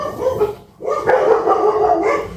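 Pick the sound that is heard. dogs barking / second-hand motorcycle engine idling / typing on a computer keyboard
dogs barking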